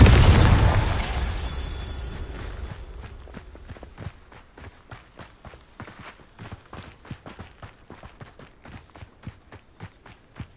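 In Hogwarts Legacy, a Confringo spell bursts with a loud, booming explosion whose rumble fades over a couple of seconds, followed by a steady run of quick footsteps.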